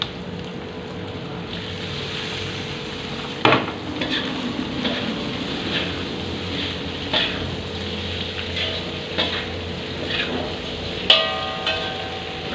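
Tofu frying in a pan for tahu kecap, a steady sizzle broken by repeated clacks of a spatula stirring and scraping the cubes, close and clear.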